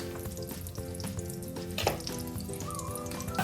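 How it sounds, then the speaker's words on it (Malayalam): Chicken pieces frying in a pan of oil with a little butter for butter chicken, a steady close sizzle with a few louder spatters and brief clinks of utensils, with no talking. "നമുക്ക് ആ എണ്ണയിൽ തന്നെ വറുത്തെടുക്കാം"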